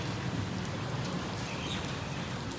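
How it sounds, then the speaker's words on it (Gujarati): Rain falls steadily outside, a soft, continuous patter heard alone at moderate distance. "અને જો બહાર વરસાદ ચાલુ છે"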